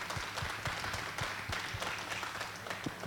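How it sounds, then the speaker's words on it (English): A modest audience claps for alpaca breeders at a national alpaca show; light, uneven applause with individual claps audible over about three seconds. "give them a round of applause"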